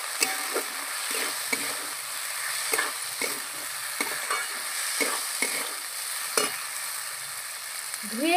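Chopped ginger sizzles in hot oil in a frying pan while making veg khichuri, a steady close fry with repeated scraping stirs and clinks throughout.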